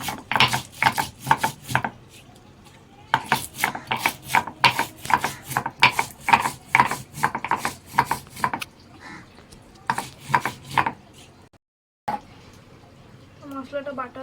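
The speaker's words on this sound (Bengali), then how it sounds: "এর মধ্যে হলুদ আর দেবো সামান্য লবণ দিয়ে বেটে নেব" Turmeric and salt are ground into a spice paste for a fish curry on a grinding stone, making rhythmic back-and-forth scraping strokes in quick bursts, with short pauses between rounds of grinding.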